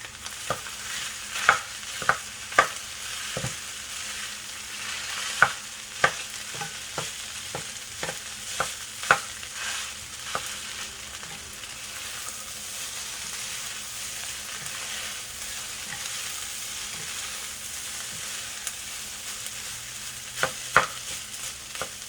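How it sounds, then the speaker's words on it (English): Semi-sticky rice stir-fried in a hot pan for pork fried rice, with a steady soft sizzle and scattered spatula scrapes and taps running the whole time, close and moderately quiet, no talking. "So we're going to take about a few minutes to warm up the rice."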